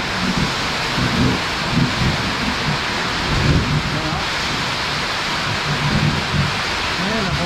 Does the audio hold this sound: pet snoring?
no